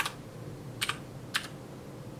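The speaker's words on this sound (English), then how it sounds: "I'm just typing some basic stuff in." Typing on a computer keyboard for a vintage RC2014 or Heathkit H8 setup: a few sparse, quiet key clicks spaced apart over a low background hum, with no talking.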